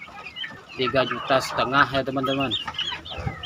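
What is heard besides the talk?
free-range chickens clucking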